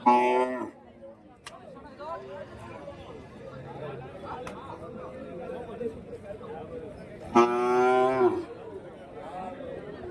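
An eight-month-old calf at a Friday cattle market in Kundarapalli, Krishnagiri district, gives two loud moos, one at the start and one near the end, amid crowd chatter and someone talking close by.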